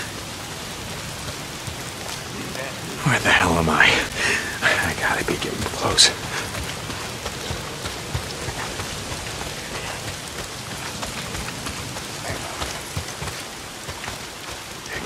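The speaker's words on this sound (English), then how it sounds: "If it's not the freaks, it's the goddamn rain." Steady rain pours throughout in the zombie-survival video game Days Gone, a dense hiss of drops on the ground, with a voice talking over it and a brief louder burst near the start.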